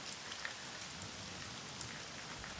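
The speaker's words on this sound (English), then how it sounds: "it's raining, and the roof isn't done" Rain falls steadily on an unfinished roof covered by a protective layer, a soft continuous patter with scattered faint drop ticks, quiet and even throughout.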